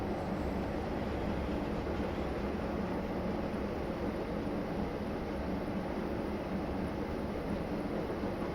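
A freight train rolls steadily past in a train simulator game on the York to Peterborough line, a dense, even rumble and rail noise held at a constant, fairly quiet level with no pauses.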